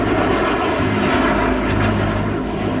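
A-12 spy plane, a Mach 3 reconnaissance jet tested at Groom Lake, heard as a loud, continuous aircraft engine roar that holds steady throughout.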